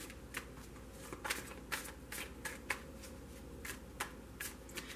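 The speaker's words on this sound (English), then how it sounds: "I have pre-shuffled this deck, so I'm only going to shuffle it for not very much longer." Soft, close shuffling of a tarot deck with quick papery riffles and light taps in an irregular rhythm over a quiet background hiss.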